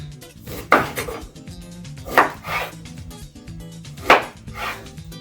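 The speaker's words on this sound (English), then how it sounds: "take your lemon, cut it up into equal 4 parts" A knife chops through a lemon on a board, three sharp separate cuts spaced roughly two seconds apart, each a crisp close knock with a brief woody ring, alone with no voices.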